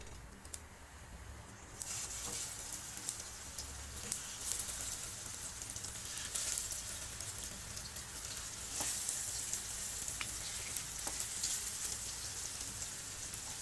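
Handi kababs fry in a little oil over a medium-low flame, giving a continuous fine crackling sizzle. It sounds like light rain, with scattered sharper pops, heard close and alone with no voices.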